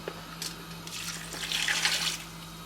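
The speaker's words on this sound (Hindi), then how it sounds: "साथ में इसमें आप डालेंगे पानी, 1 कप जितना पानी" Water is poured from a jug into a karahi of chicken and spices over a high flame, a soft splashing pour that swells in the middle and then trails off, close and fairly quiet.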